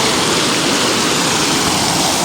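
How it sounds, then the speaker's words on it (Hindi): A mountain stream near Ushu Glacier in the Kalam valley rushes past in a loud, dense, continuous roar of turbulent water, close and unbroken, with no voices. "यार आप यहाँ पर पानी की आवाज़ सुने"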